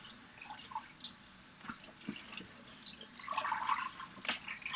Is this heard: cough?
no